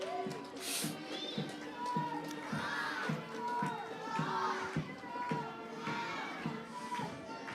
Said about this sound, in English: a big round of applause for the Girls Brigade, the 28th Girls Brigade of Greystones